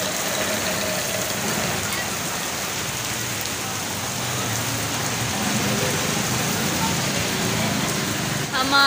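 Heavy, steady rain pours down at a market, a dense continuous hiss that holds at one loud level throughout, with faint traffic rumbling underneath and a voice briefly audible.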